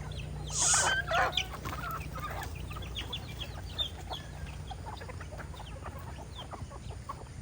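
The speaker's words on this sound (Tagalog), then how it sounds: "Nangaasal lang yun ng mga manok." Chickens cluck steadily in a farmyard flock, with a louder squawk near the start and softer scattered clucks continuing throughout, no talk.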